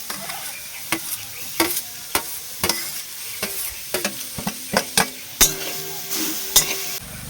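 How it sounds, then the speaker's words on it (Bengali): Grated coconut stirred in a hot wok, repeated sharp scraping clacks of a spatula against metal in an uneven rhythm over a low sizzle, close and fairly loud. "সব প্রথমে নারকেল দিয়ে দেব"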